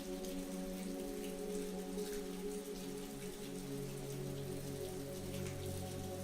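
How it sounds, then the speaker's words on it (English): Steady rain patters densely on leaves in an unbroken, even wash, with a low tonal hum running underneath and no voices. "As the rain continued to drum against the leaves outside"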